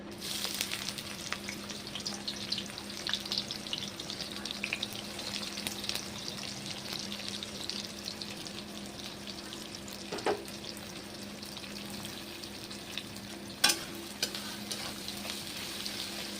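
Chopped onions frying with spices and dried red chillies for chicken keema kosha, giving a quiet, steady sizzle from the pan with occasional faint utensil taps and one sharper clink near the end.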